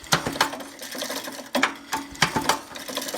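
Mechanical clicking comes from inside an old 1960s MTD tiller engine, a close, loud run of sharp repeated clicks and rattles in an uneven rhythm.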